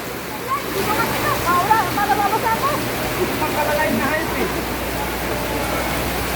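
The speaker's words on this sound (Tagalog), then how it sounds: "Lakas guys ng ulan guys." Strong typhoon rain falls hard and continuously, a thick roaring wash close at hand, with people talking faintly underneath.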